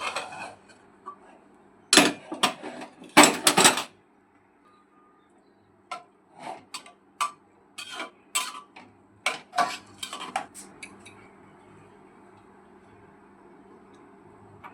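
A metal pressure cooker lid is handled and opened, with sharp clanks and scrapes of metal on metal coming in uneven clusters, some loud and close, then lighter taps and rattles against a quiet kitchen background.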